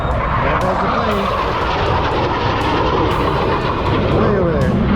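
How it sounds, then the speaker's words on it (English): An airplane flying overhead at America's Air Show (formerly the Miramar Air Show): a loud, steady jet roar fills the whole stretch, with faint voices underneath. "There goes the plane."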